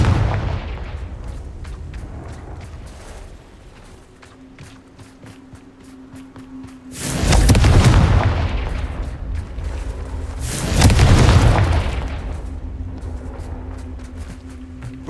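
Blasting Confringo spells in the Hogwarts Legacy game go off as two loud broadband explosions a few seconds apart, each a deep booming burst with a rumbling tail over a steady low game ambience.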